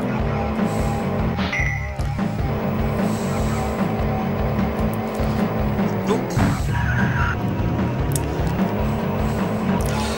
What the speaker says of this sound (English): when I hit them in my massive bulletproof Batmobile, I'm taking damage and they're just kind of driving off